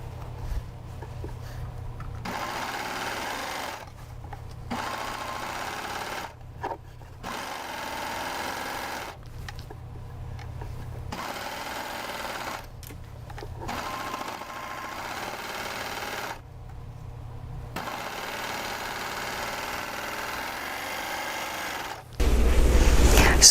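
Sewing machine running a side seam on a little dress bodice, a close steady hum of stitching in several runs broken by brief stops.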